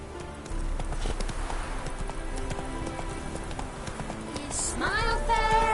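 Horse hooves clip-clop at a steady gallop in The Witcher 3 game, loud and close for the whole stretch, with game ambience and a rising whoosh near the end.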